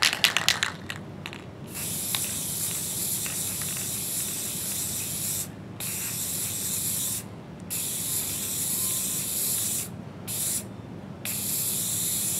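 Bursts of clear matte sealant hiss from an aerosol can onto model terrain trees, several sprays separated by short pauses, close and fairly loud, with faint clicks of the nozzle at the start.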